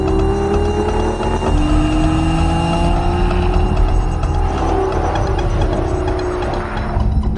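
A 6-litre V12 in a manual Aston Martin V12 Vantage S pulls hard and loud from close by, its rising tone climbing steadily through the gears with a brief shift, no voices present.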